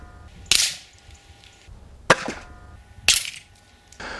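An Air Arms S400 MPR FT air rifle, a single-shot field target airgun, fires three sharp, loud shots at field targets, each a crisp crack with a short ringing tail, spaced about a second apart, with a fainter fourth report at the end.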